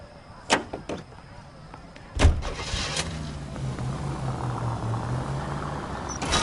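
In the video game L.A. Noire, car doors thud shut, then an old car engine cranks and settles into a steady idle, close and loud.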